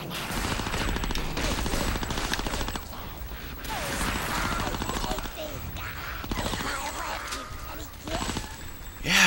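Rapid gunfire and grenade blasts crackle nonstop from a Conker Live and Reloaded battle, dense and loud throughout, with a sharper burst near the end.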